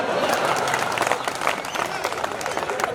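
An audience at a Hindi poetry recital (kavi sammelan) in Singodhi claps in a dense, steady patter, with a voice talking over the applause.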